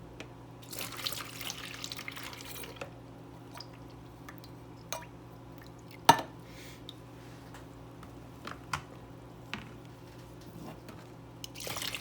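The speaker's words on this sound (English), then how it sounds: "Then I'm going to strain the green beans." Green beans being strained in a kitchen sink: a faint tap-like trickle of water with soft drips, wet squishes and a few light clatters, quiet and close, no voices.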